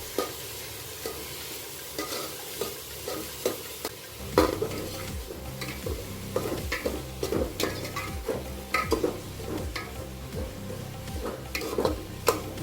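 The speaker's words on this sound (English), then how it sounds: "Add half tablespoon of ghee and cook it for 5 minutes." Fried rice cooks with ghee in a pan, with a continuous soft sizzle under irregular spatula scrapes and clinks against the metal, getting busier after the first few seconds.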